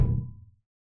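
Several pitch-lowered metal drawer hits stacked together make one dense, booming impact that rumbles low and dies away within about half a second.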